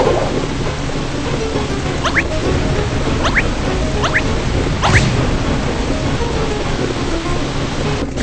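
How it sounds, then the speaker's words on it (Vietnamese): A storm rages at sea in a children's cartoon, with heavy rain roaring steadily throughout and a few thunder rumbles and cracks rising out of the downpour. "Có một cơn bão ở đằng kia"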